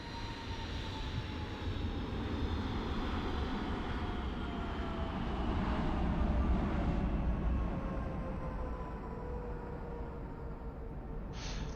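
Engines of a WestJet Boeing 737 in Microsoft Flight Simulator 2024 give a steady airliner roar with a slowly falling whine, holding loud for the whole stretch with no talking.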